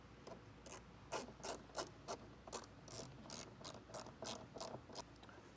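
A hand ratchet tightens a nut back onto a stud over a wiring ring terminal while installing a Curt T-Connector harness on a 2022 Jeep Wrangler, giving about a dozen quick, evenly spaced clicking bursts, close and clear with no talk.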